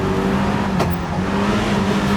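A Peugeot 205 rally car engine revs hard in a rally simulator game, a loud continuous buzzing drone with a brief shift blip near the middle, no voices over it.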